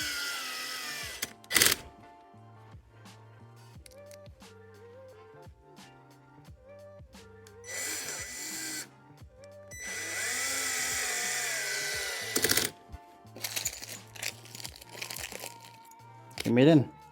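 Electric screwdriver driving screws into a shoe cabinet panel, several short whirring bursts separated by quiet gaps, with handling clatter and a person talking throughout.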